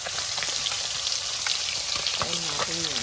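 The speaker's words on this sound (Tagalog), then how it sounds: "Prito na natin yung ating tilapia." Tilapia fish frying in hot oil, a steady dense sizzle and crackle close to the microphone, with a brief scraping stir near the end.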